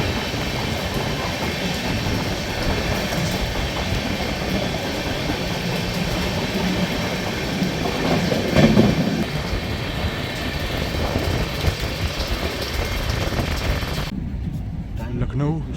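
The 12259 Duranto Express rumbles at moderate speed through Shikohabad junction, a steady close rolling roar with wheel clatter, a brief louder surge midway, then the noise cuts off sharply near the end.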